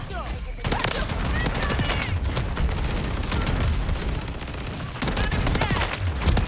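Rapid bursts of Riveter shotgun fire from the MW3 video game, loud and dense, crowding together over a busy battlefield mix with other gunfire and explosions.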